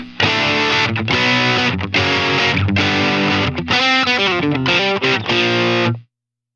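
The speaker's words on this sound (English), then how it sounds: "If we put the compressor after, so here's with it off versus on" Heavily distorted electric guitar played through a Line6 Helix rings out in loud, sustained strummed chords, first with the compressor off and then with it on, ending abruptly.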